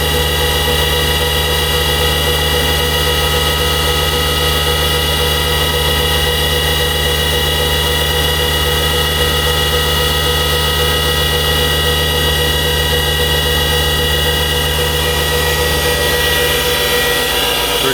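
A machine cutting a memorial plaque at 3.4 inches a minute gives off a loud, steady, unbroken drone with a constant hum, alone and with no talk.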